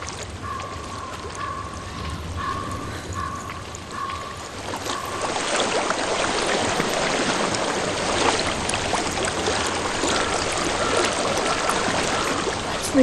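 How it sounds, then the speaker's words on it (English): Flowing stream water in the video game Hellblade: Senua's Sacrifice, a steady broadband rush that swells louder halfway through and holds, with a faint tonal hum in the first few seconds and no talk. "I hear water. Go to it."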